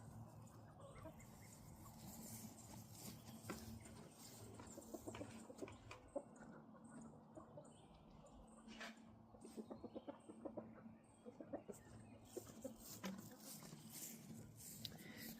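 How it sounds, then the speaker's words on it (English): Backyard egg-laying hens cluck softly and intermittently in their run on a cool morning, faint and somewhat distant over a low, steady outdoor background with light patter. "I love our egg birds, y'all."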